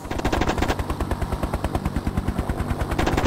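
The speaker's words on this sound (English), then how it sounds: "I don't think my little cannon's gonna hurt that tank. Firing now." Rapid rhythmic bursts of an automatic cannon firing from a helicopter in the Hind combat game, a steady fast train of punchy thuds at about ten per second, loud and continuous with no speech.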